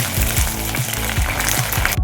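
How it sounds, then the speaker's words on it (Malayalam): Okra frying in hot oil until browned, a loud steady sizzle broken by rhythmic scraping and clanking stirs in the pan roughly every quarter to half second, close up with no talk. "വെണ്ടയ്ക്ക നല്ലതുപോലെ ഒന്ന് വറുത്തെടുക്കണം"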